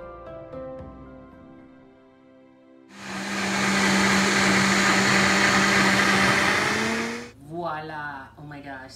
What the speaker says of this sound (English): So I ladled in the soup, caramelized onions, and a pat of butter. And I'm going to blend.